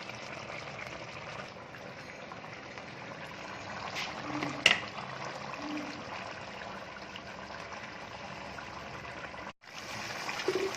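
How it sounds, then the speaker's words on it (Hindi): About half a cup of water is poured into a simmering chicken potato curry, giving a steady liquid trickle and splash with a brief clink partway through, close and moderately quiet. "आधा कप के करीब पानी होता है मैं सालन में ऐड कर देती हूँ"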